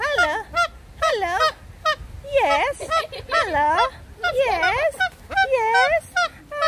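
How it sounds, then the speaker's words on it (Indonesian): Birds in an Australia Zoo aviary give repeated loud, honking, goose-like calls in close bursts, several squawks in a row with short pauses between them. "Burungnya ngajak ngobrol."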